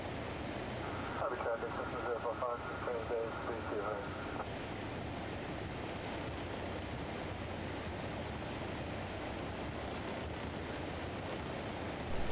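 Steady, droning engine and wind roar inside a light airplane on its landing approach, constant and close throughout, with brief faint clicks early on.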